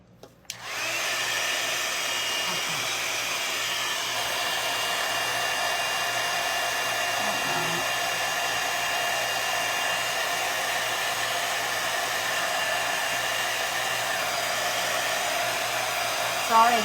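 A hair dryer blows steadily and loudly on a wooden birdhouse kit, a constant whooshing drone that holds for the whole stretch after a brief click at switch-on.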